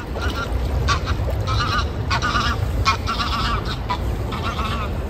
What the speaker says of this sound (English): noisy ducks now flying overhead